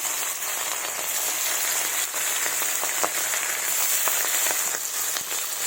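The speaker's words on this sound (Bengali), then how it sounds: "এবার মাছগুলো ভেজে নেব।" Fish frying in hot mustard oil in a wok, a steady dense sizzle and crackle with scattered pops, close and continuous, with no talk.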